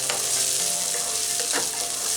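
Cooked, salted green peas sizzle steadily in a pan as they are sautéed, a continuous close frying hiss with faint scraping stirs and no talking.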